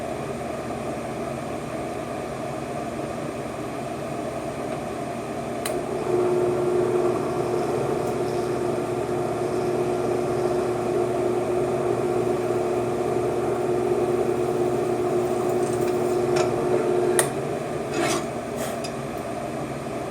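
A small drill bores a hole through coin ring scrap metal for an earring, its motor whining steadily for several seconds over a constant rasping, mechanical background, with a few light clicks as it stops.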